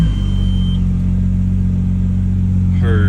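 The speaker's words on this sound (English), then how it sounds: "But the car starts right up." A Honda Accord CB7 car engine idles with a steady low rumble, running smoothly and close by, with a slight rise in pitch near the end.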